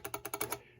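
A rapid run of six sharp mechanical clicks from the clicker of a 1948 Morse code practice set, evenly spaced and close, then a brief fading ring.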